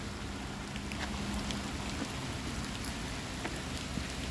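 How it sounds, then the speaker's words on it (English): Steady rain falls outdoors around a person walking, a continuous close hiss of drops with faint patters on surfaces and no voices, even and unbroken throughout. "it's a little bit uncomfortable out here walking in the rain"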